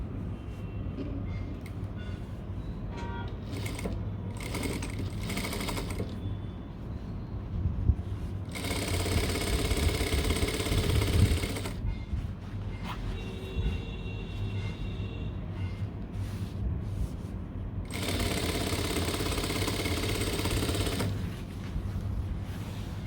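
A sewing machine runs in bursts along a half-inch seam on cargo pants, with steady rapid stitching rattles separated by short pauses and handling noise, close and fairly loud.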